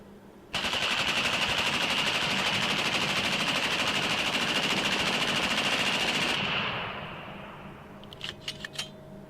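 A CMG Mutant select-fire rifle, an AR–AK hybrid, fires one long, unbroken burst of full-automatic gunfire for about six seconds. The shots are loud and close, and the burst ends with a fading echo and a few faint clinks.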